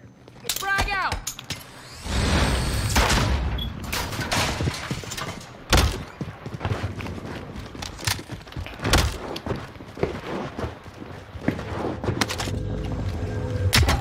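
Grenade blast and gunfire in a battle royale video game match on the Alcatraz map: a dense, chaotic run of thuds, bangs and rapid shots, loud and continuous throughout, with game effects layered over one another.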